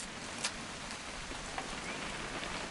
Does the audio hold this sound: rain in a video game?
yes